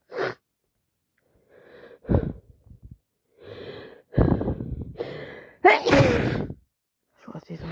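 A person with a wet head cold sneezes in a few sharp, forceful bursts with sharp inhales and sniffles between them, close to the microphone in a quiet room.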